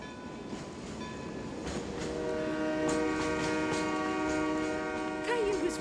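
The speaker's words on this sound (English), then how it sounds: "I hear the train." A cartoon train approaches, its rumble and clatter rising steadily while a sustained horn blares with layered tones, growing louder and nearer over several seconds with no speech.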